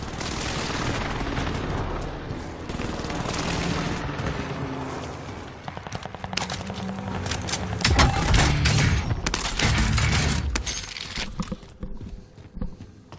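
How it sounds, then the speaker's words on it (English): Explosions and gunfire from a precision airstrike in the Warzone video game. Dense bursts and booms arrive in clusters, building to a loud peak near the end before they thin out. "Allied precision airstrike incoming."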